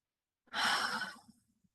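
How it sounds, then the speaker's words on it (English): A single slow breath is exhaled softly and close by, a gentle airy rush lasting under a second that fades into quiet, during a mindfulness practice. "exhaling slowly and listening to the sound of the breath"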